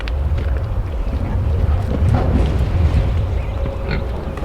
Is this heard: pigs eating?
yes